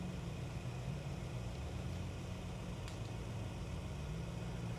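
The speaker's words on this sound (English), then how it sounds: "now it sounds like they're just idling through" A side-by-side UTV idles past at a night rally stage, a faint, steady low engine rumble heard from a distance with no voices.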